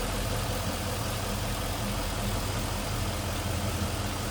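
A 1940 Ford Deluxe street rod convertible with a modern drivetrain idles steadily at close range, a continuous low engine rumble with no talk over it.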